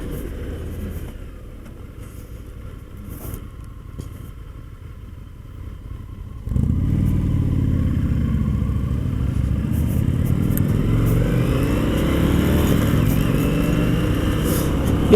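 An Indian FTR1200 motorcycle rides at a demo day, its engine a low muffled drone that jumps louder and rougher midway as the rider opens the throttle, holding a steady rumbling roar with shifting pitch and wind noise.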